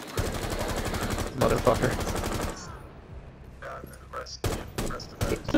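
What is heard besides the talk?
gunfire in a video game shooter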